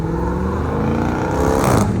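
A car accelerates hard on a backroad, its engine revving in a loud, sustained roar that climbs in pitch and swells toward the end as it passes close by.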